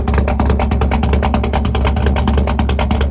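Loud, deep rumbling exhaust from a Ford Bronco with a 545 cubic inch big block stroker V8, with a rapid, choppy pulse, sustained and close for a few seconds.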